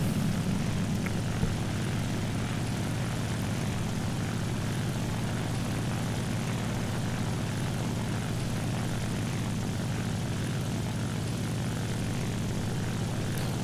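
Propeller aircraft engine from a flight-sim dogfight, a steady, droning roar with a low throbbing hum, continuous and close, with no voices over it.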